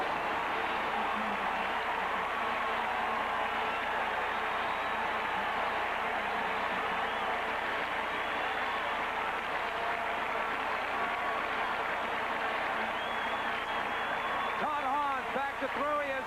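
A stadium crowd at the 1982–83 Fiesta Bowl college football game roars in a steady, loud wash of cheering after a touchdown, with a voice talking over it.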